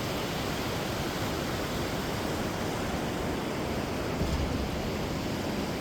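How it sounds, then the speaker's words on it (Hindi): The Bhagirathi river rushes through the Harsil valley near Gangotri in Uttarakhand, a steady, loud, broadband roar of flowing water with no break. "और पानी की आप आवाज़ सुन सकते हैं।"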